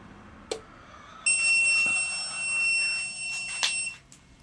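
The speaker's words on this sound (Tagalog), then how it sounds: "Yung beep niya normal na." An ANERN power inverter at power-on, with a fan connected as load, gives a steady high electronic beep lasting a few seconds among a few sharp clicks and knocks, close and fairly loud.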